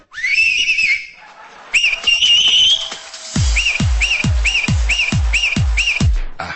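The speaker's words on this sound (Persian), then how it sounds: "با یک فقره سوت بلبلی غلظت مشنگ بودن خودش رو نشون داد." Loud, shrill finger whistling with rising and falling warbles, ending in a run of short repeated whistle bursts, each one sharply punctuated, close to the listener.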